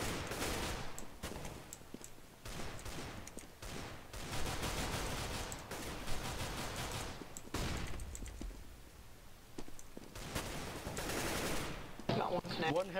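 Counter-Strike GO gunfire crackles in repeated bursts and scattered shots, loud and close, with a decoy grenade in play and players talking over the shooting.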